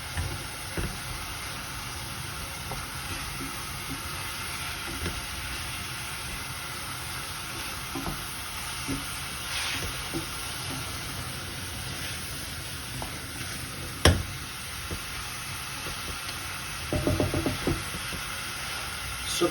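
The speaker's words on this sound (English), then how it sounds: "So the meat has started sizzling again, as you can hear it" Minced meat for Greek makaronia me kima frying in a pan, a continuous close sizzle with occasional stirring clatter and scrapes, a few louder knocks near the end.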